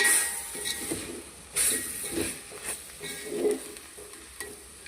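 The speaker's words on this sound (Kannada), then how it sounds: "ಸೊ ನೋಡಿ, ನಾನು ಇವಾಗ ಇದನ್ನು ಮಿಕ್ಸ್ ಮಾಡ್ಕೊಳ್ತಾ ಇದ್ದೀನಿ ಚೆನ್ನಾಗಿ" Brinjal (eggplant) vangibath mixture is stirred with oil in a pan: a gentle sizzle runs under repeated scraping strokes of a spoon, close and moderately loud.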